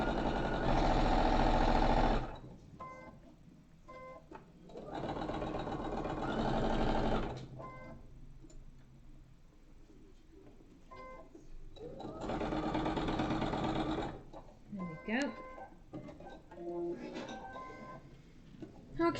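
Sewing machine stitching along the side of a traveller crossbody bag, running in several steady bursts of a few seconds each, with a speaking voice heard in the pauses between runs.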